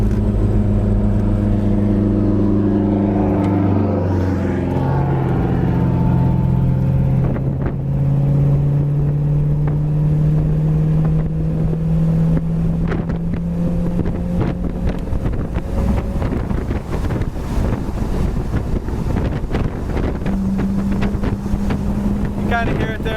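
A 1965 Chevelle Super Sport engine with a four-barrel carburetor rumbles and climbs in pitch as it opens up, a loud sustained roar under heavy wind buffeting while driving.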